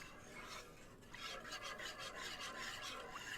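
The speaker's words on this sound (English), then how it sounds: "once all your liquid is added in, give it a nice whisk" A whisk stirs liquid into a cheesy potato sauce in a pan, giving soft, quick scraping strokes that speed into a steady rhythm partway through. It sounds close and fairly quiet, with no one talking.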